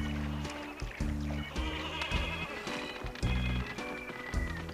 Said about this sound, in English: if you get a sheep and make him eat the flowers